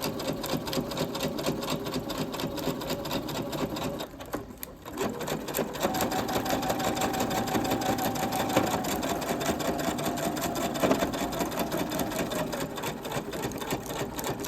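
Sewing machine running a straight stitch with the presser foot down, a fast steady mechanical chatter close by, briefly pausing and then continuing evenly.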